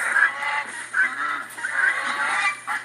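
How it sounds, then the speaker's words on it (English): Geese honk repeatedly and loudly up close, a series of nasal calls overlapping in an uneven rhythm. "That's a geese."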